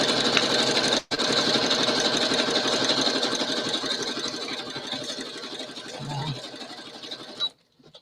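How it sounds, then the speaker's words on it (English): A sewing machine stitches craft material in a steady fast mechanical chatter, close and fairly quiet, with one brief pause near the start before it slows and stops. "let me just sew it quick"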